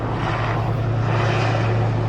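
Helicopters fly overhead, their continuous heavy rotor and engine drone filling the air. The roar is loud and steady throughout, with no talking.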